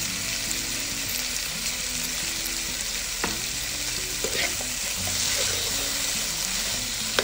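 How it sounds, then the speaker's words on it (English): Two chopped, salted tomatoes fry in hot oil in a pan for an egg masala, giving a steady close sizzle with occasional stirring clatters and faint tonal background sounds. "And then just allow this to fry in the oil together"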